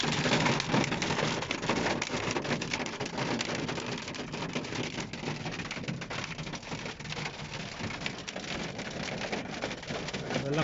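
Hailstorm in Al Soodah, Abha, Saudi Arabia: dense, steady pattering of falling hail with sharper individual impacts, loud and continuous throughout, with no talk.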